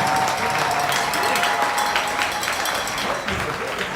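Sustained applause from an audience for a marching band fills the whole stretch, a dense wash of clapping, loud and even throughout.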